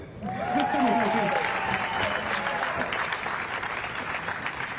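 Applause from a crowd at an activist rally at the Texas Capitol, a sustained wash of clapping with some cheering voices, steady and fairly loud throughout.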